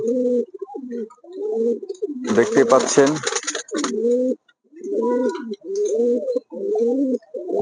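Mookee pigeons coo steadily and close, a run of rolling, throaty calls repeating through the clip, with a brief burst of someone speaking and fluttering noise in the middle.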